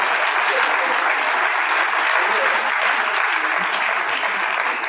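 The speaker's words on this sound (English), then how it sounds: "Can you put your hands together?" Steady, dense applause from a conference audience fills the hall at full strength, a continuous wash of many hands clapping without a break.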